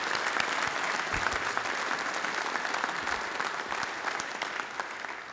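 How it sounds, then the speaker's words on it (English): Conference attendees at a general session applaud the speakers, a steady wash of many hands clapping in a large hall, sustained and even before slowly easing off. "give everybody a round of applause before we do the questions."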